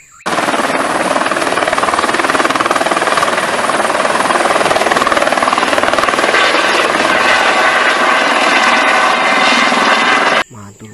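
A toy helicopter gives out a loud, continuous electronic whirring rotor sound, steady and close for about ten seconds before cutting off abruptly.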